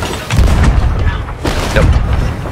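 Ship cannons fire in the pirate game Sea of Thieves, with two heavy, rumbling booms about a second and a half apart, loud and close, with faint voices in the background.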